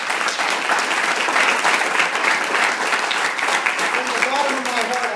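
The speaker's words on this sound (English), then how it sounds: "I think they deserve a round of applause" An audience claps in sustained, dense applause for the full stretch, close and fairly loud, with no break in the sound.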